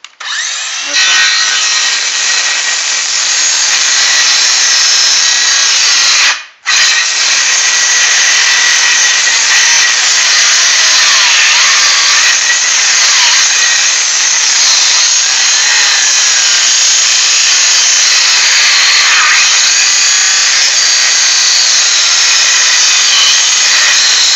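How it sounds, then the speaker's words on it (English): A cordless circular saw whines loudly and steadily while cutting a birdsmouth notch in a wooden shed roof rafter, with one brief break before the blade bites in again and runs on. "Cordless saws don't like to dig as much as power tools"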